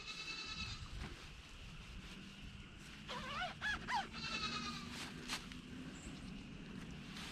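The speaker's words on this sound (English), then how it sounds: "First step, get him separated from the other goats." Goats on a farm bleat in a couple of short wavering calls midway, with rustling and footsteps around them in an otherwise quiet outdoor pen.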